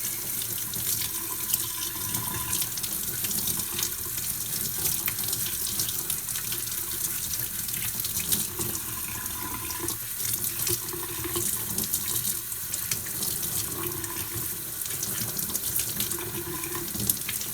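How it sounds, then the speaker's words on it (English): Warm water running steadily from a tap into a sink while a vehicle shell and handrails are cleaned, a constant splashing hiss with faint scrubbing and clinks, no voices. "I'm using warm water to clean this"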